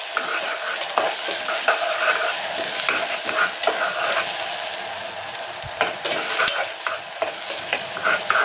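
Curry leaves and onions sauté in hot oil in a pan, a constant bright sizzle broken by repeated scraping stirs of a spoon, close and loud with no voices.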